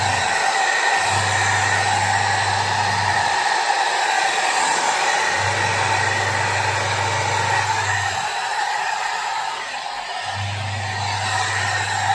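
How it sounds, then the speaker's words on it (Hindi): Small hair dryer blowing steadily and loudly at close range while hair is styled with a round comb, a constant broad airflow roar with a low motor hum that cuts in and out in long stretches. "अभी मैंने लिया ड्रायर और गोल कंघी।"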